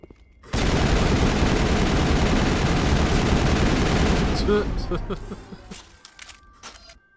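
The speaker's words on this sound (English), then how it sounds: "See if the shotgun has a better chance of destroying these things quickly" Rapid, dense burst of gunfire from a shotgun in the Mass Effect video game, loud and continuous for several seconds before breaking into scattered shots and tapering off.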